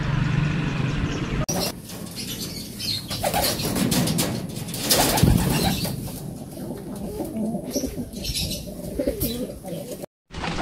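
Racing pigeons return to a loft landing board during club training, with wings flapping and clattering, soft cooing and chirps, and a voice talking now and then over the birds.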